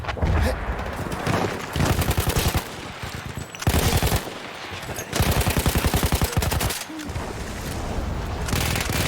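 Battlefield 1 gunfire rattles in dense, loud automatic bursts with rapid repeated shots and occasional heavier booms, layered over busy battlefield noise, while a voice talks now and then.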